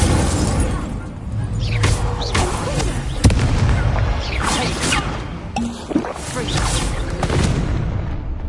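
A Confringo fire spell explodes in the Hogwarts Legacy video game, with booming blasts and whooshing bursts over a dense, loud game soundscape and combat noise.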